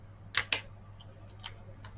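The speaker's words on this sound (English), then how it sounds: "So I'll cut that off just about there" Scissors snip paper while trimming ribbon for a handmade stamped greeting card: two crisp close cuts early on, followed by a few fainter clicks and snips, with no talking.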